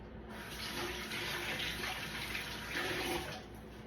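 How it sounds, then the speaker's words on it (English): Tap water runs steadily into a sink while an onion is rinsed under it, a continuous close splashing rush with slight swells, no voices. "Now, after I rinse my onion off,"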